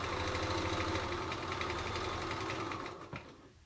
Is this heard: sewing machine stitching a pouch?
yes